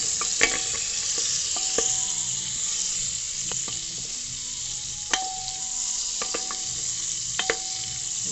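Butter hits a hot pan and sizzles steadily in a kitchen, a continuous bright frying hiss with a few sharp clicks and pops scattered throughout, close and alone without any voices.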